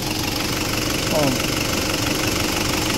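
An Isuzu 4JX1 diesel engine with fuel mixed into its oil runs steadily with a loud knocking rumble, and a voice is heard briefly over it.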